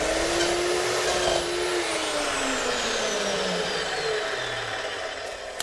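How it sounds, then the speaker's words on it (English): Cold-cutting metal saw with a carbide blade ground for aluminum, slicing through aluminum stock: a loud, steady high whine with a pitch that slowly sinks as the cut loads the blade, running continuously throughout. "saw that I'm using here is a cold cutting metal saw"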